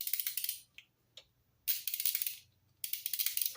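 Three bursts of rapid mechanical clicking from a Proto Professional 3/8-inch ratchet wrench with clean gears, close and crisp, with short silent gaps between them.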